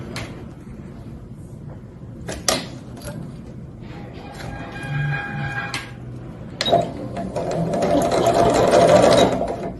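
A home electronic sewing machine stitches a mesh lattice fabric bag, running in short bursts with pauses and clicks between them, then a longer and louder continuous run near the end, close up.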